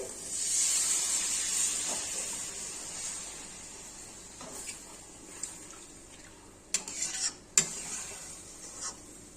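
Water hits fried spices in a hot pan for a katla fish kalia, setting off a loud hissing burst that settles into a quieter simmer, broken later by a few sharp clinks and scrapes.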